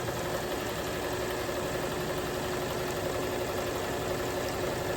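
A sewing machine running steadily with a walking foot, stitching a plain straight stitch at setting 250 through a quilted table runner with backing and binding; a continuous, even mechanical hum with a dense buzz that stays close and constant with no pauses.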